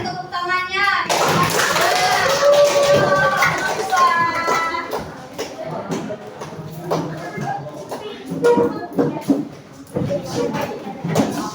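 A classroom of students applauds a presenting group, a burst of many hands clapping close by, mixed with shuffling and thumps. A teacher's voice speaks over it at the start and talk continues afterward.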